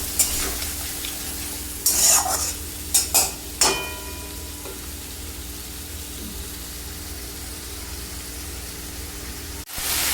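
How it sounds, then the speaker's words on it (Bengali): Potatoes frying in a pan with cumin powder and Kashmiri chilli powder, a steady sizzle throughout with several short scraping stirs near the start and a brief knock near the end. "দিয়ে আমি মশলাটা ভালো করে একটু কষে নেব।"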